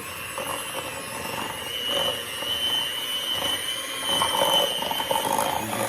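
Electric beaters whir steadily while creaming butter with white and brown sugar for chocolate chip cookies, a close, continuous mechanical hum with faint scraping against the bowl.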